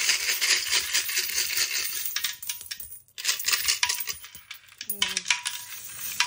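Coins are dropped into a piggy bank, producing a dense, continuous metallic clinking and jingling that is loud and close, with a short pause and a brief ringing tone near the end, and no talk.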